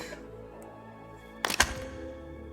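MP7 magazine handled in the VR game Bonelab: a brief double click-clack of the mag seating, fairly close and crisp, with quiet hum underneath and no talking.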